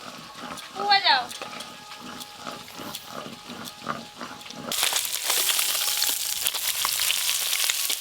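Khoira fish frying in oil: after a few quieter knocks and a brief call-like sound, a loud, dense sizzle starts midway and continues to the end.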